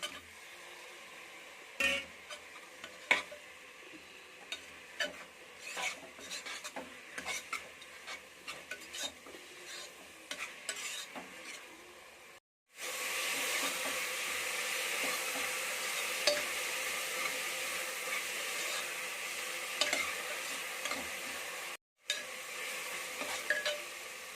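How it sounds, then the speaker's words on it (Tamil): Quiet sizzling and frying of tomatoes with repeated stirring and scraping of a utensil in a pan, close up, growing into a steadier hiss midway. "தக்காளி நல்லா வதங்கிடுச்சுங்க"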